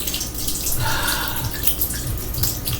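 Water from a kitchen sink faucet left running gushes and splashes as the sink overflows, a steady broad wash of running water across the whole stretch with a few brighter splashy bursts.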